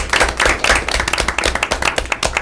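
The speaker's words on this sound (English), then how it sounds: "So want to be able to give Michelle a round of applause" A burst of applause at a school board meeting, many hands clapping quickly and unevenly, close and fairly loud, lasting a couple of seconds.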